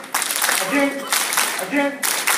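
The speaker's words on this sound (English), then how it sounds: "Give yourself a leadership clap." A group at a workplace professional development session does a leadership clap: short rhythmic bursts of hands clapping together, with voices shouting along in time, repeated about three times.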